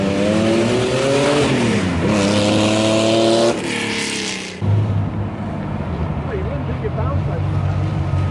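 A Porsche 959 Group B rally car engine roars loud and close, climbing through rising revs and gear changes, then the sound cuts to a rougher, lower running drone with engine and tire noise.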